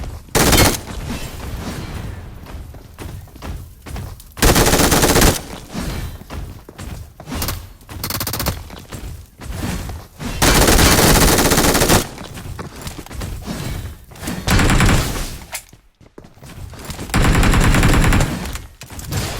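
Gunfire in PUBG Mobile during a duo squad match: loud bursts of automatic fire and single shots come in irregular clusters, some close and sharp, others farther off, with short lulls between.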